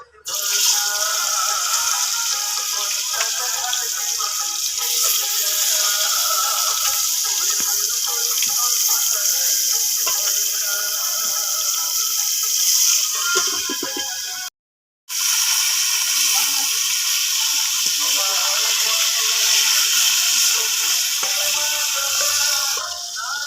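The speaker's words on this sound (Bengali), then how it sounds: "সরিষার তেল দিয়েছি মাছগুলো ভেজে নেবো" Marinated pangas fish frying in mustard oil, a loud continuous close sizzle and spatter lasting throughout, broken by one brief silent gap near the middle.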